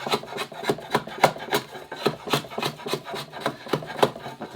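Close-up wood shaving on a sailboat rudder for an International 2.4mR, made with a sharp blade in quick, short stabbing strokes, about a dozen crisp rasping cuts in a steady rhythm and no speech.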